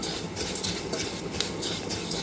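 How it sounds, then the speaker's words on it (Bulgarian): Rice stirred quickly in a pot, giving soft, rapid scraping swishes over a steady low background hum, close and continuous. "Разбърквам набързо."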